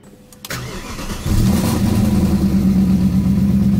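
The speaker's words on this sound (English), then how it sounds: "what I'm gonna do is get in the car and turn it on" A car engine cranks and catches about half a second in, then settles into a loud, steady idle with a slight rise in revs, recorded up close while the car's A/C system is being recharged with refrigerant.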